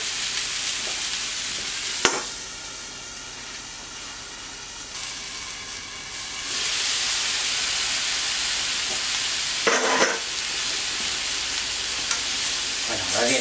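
Chicken sizzles steadily on an electric plancha grill, a close, continuous hiss that thickens and grows louder midway, with a couple of sharp clicks from turning or handling.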